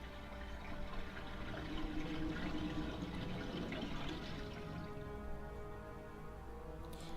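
A steady wash of running, splashing water from a pool of infected water in Resident Evil: Director's Cut, faint and continuous, with no voices.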